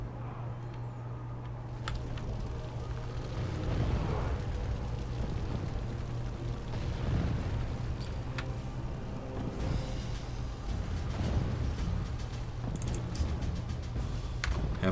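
Mortar fire and explosions in a Total War battle rumble as dull booms and crackling blasts over a low constant hum, fairly distant and repeated across the scene.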